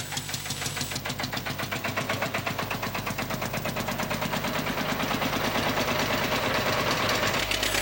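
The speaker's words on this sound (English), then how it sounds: "This old tractor's got a nice steady job pulling the sled back to the beginning, ready for another pull." An old tractor at a tractor pull event runs with a steady, rapid chugging engine beat, loud and close, holding an even throbbing rhythm throughout as it hauls the sled back to the start.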